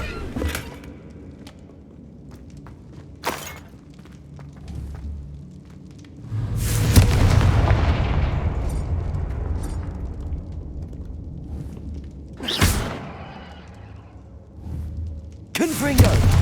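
A Confringo fire-blast spell explodes in Hogwarts Legacy as a loud, close boom with a long roaring, whooshing tail. Sharper bursts of blast come before and after it, set against low ambient rumble.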